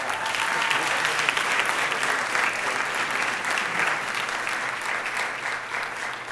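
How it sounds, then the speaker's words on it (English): Conference festival audience fills the hall with a steady, roaring round of applause, continuous and even throughout, with faint crowd murmur mixed beneath the clapping. "let's give a round of applause for being one"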